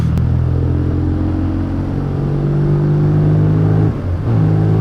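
A Triumph T140V motorcycle ridden in a high gear gives a steady, loud engine drone with a low even hum. It dips briefly near the end, then settles back, with no voices.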